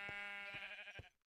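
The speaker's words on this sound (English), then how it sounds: "Let the sheep come through." A sheep bleats in the Minecraft video game: one close, clear, wavering bleat lasting about a second, heard alone.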